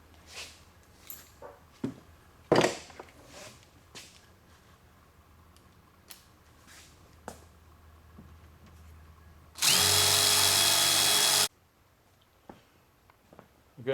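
A power drill whirs loudly for about two seconds, boring a small hole in a 1976 Trans Am upper door panel, amid scattered knocks and handling clatter before and after.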